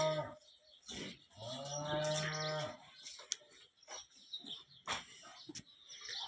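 Cows in a dairy farm shed moo before feeding: one long, loud moo stands out among softer lowing and scattered bird chirps, with barn clatter in between.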